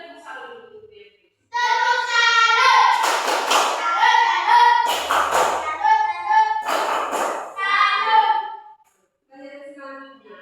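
A school class claps out a rhythmic salute in unison, a few patterned bursts of claps close by with children's voices talking and chanting over them.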